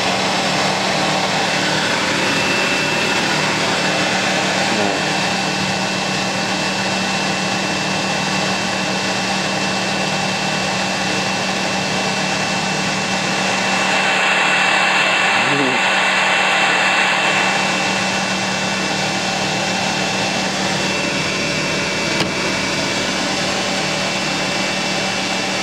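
Continuous mechanical whir and hum of a Hoover washing machine on a woollens spin cycle, slowing down, steady and loud, with a brief swell in the middle.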